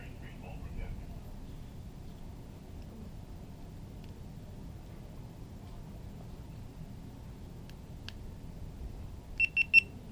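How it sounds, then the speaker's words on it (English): A GoPro HERO 7 camera gives a quick series of short, sharp electronic beeps near the end, clear over a faint quiet room hum. "It's beeping."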